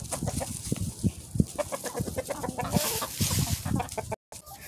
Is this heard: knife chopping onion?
no